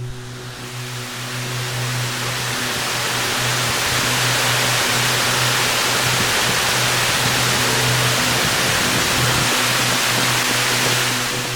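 A forest waterfall at Kennedy Falls roars as a loud, steady broadband rush of falling water, swelling slightly in the first seconds and then holding constant, with no voices.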